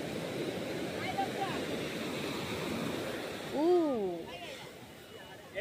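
Sea waves roll and break on a beach in a steady, broad wash of surf, moderately loud and continuous, with a voice briefly rising over it.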